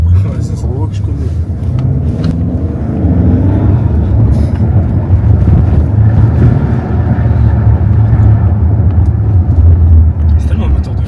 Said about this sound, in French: C'est tellement un moteur de fou.